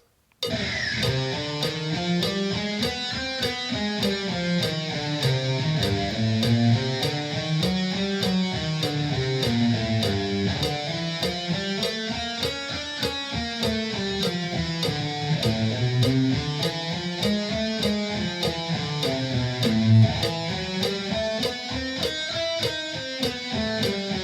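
A guitar plays the minor scale as a steady run of clear plucked single notes, climbing and falling again in repeated waves, loud and alone with no talking.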